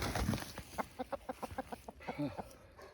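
A rooster crows in a rapid series of sharp, rhythmic calls, fairly close, with a brief voice at the start.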